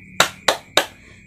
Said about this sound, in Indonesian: tepuk di samping telinga